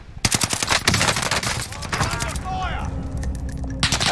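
Rapid automatic gunfire in a squad-based shooter video game, dense bursts of shots up close and loud, followed by a more continuous rattling stretch, with a player's voice talking over the game audio.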